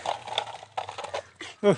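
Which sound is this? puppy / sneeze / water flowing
puppy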